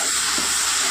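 Frying masala for masala dosa hisses loudly and steadily as a small splash of water hits the hot pan, a continuous close steam sizzle filling the short moment without any voices.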